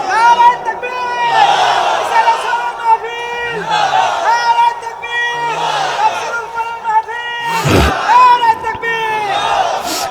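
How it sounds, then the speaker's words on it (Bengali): A large crowd at a Bangla religious sermon gathering chants the takbir "Allahu Akbar" in loud, rhythmic repeated waves of many voices, with a sharp burst near the end. "তাকবীর দেন।"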